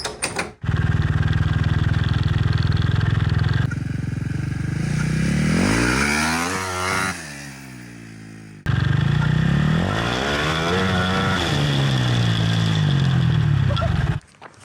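A KTM 450 engine powering a home-built buggy revs loudly and close, with pitch sweeping up and down as it accelerates and eases off, cutting out briefly midway before roaring again, with clatter from the rattling frame.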